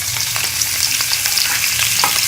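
Potatoes fry in hot ghee in a kadai, giving a steady close sizzle and crackle with occasional stirring sounds throughout, with no voices.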